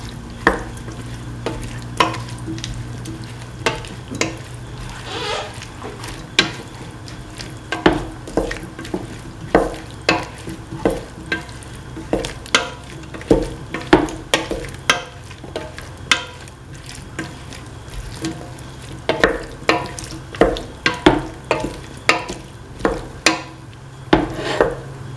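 Hash brown pieces are stirred into a beef, ash gourd and coconut milk stew mixture in a pan, with repeated scraping clacks of a utensil over a low steady sizzle.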